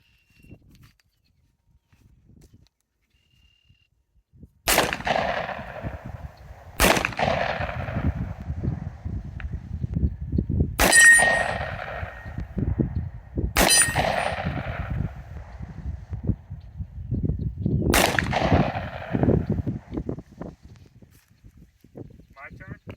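Five loud gunshots spaced a few seconds apart, each with a sharp crack and a long echoing tail, over steady outdoor background noise.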